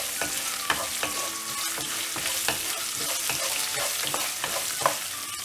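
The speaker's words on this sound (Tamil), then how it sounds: "இப்போது இதில் இஞ்சி ஆட் பண்ணிடலாம். ஆட் பண்ணிவிட்டு இதை நல்லா எண்ணெயில் ஃப்ரை பண்ணிடலாம்." Ginger fries in hot oil for a coriander thogayal, sizzling steadily while a utensil scrapes and stirs the pan in frequent irregular strokes, with no voices.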